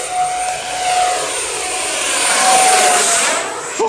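A Freewing Mirage 80mm RC jet flies past with a steady, high-pitched whine from its overpowered motor that swells as it nears and fades away, loud and continuous with no voices.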